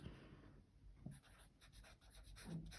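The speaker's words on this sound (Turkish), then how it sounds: "Yani kaleminiz kağıt üzerinde akıyor diyebilirim." A Kaweco Classic Sport fountain pen glides across smooth Rhodia dot pad paper, giving soft, faint scratchy strokes in a quiet room with no talking.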